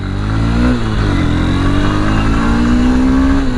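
A Honda CB200X motorcycle engine accelerating on a test ride, loud and close, the engine note rising steadily under a constant roar of wind.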